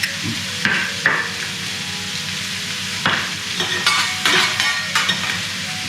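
Broccoli, cauliflower, red cabbage, bell pepper, carrots and red onion sizzle loudly on a teppanyaki griddle, with sharp scraping strokes of a spatula stirring them at irregular intervals.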